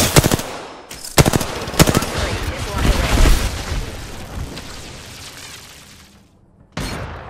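Rapid bursts of gunfire and booming shots ring out in the battle royale shooter Apex Legends, loud and close, with repeated volleys and a dense stretch of explosive noise before a final burst.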